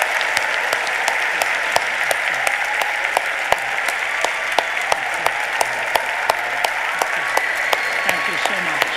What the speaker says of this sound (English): give Dr. Ravi Zacharias and Vince Vitale a round of applause